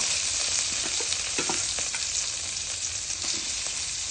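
Crushed ginger, garlic and shallots sauté in coconut oil for a sardine curry, a loud continuous sizzle close up with scraping stir strokes mixed in.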